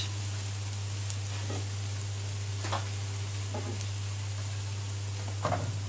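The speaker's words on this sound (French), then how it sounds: "je continue à cuire la crêpe de la Chandeleur" A Chandeleur crêpe cooks in a hot pan, giving a soft, steady sizzle over a constant low electrical hum, broken by a few faint scraping or tapping sounds; no one speaks.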